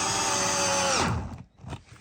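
A 2008 Makita drill drives a screw into wood with a short, steady whir. It then winds down in falling pitch, leaving a few faint clicks and handling knocks.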